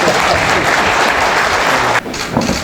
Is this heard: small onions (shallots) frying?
no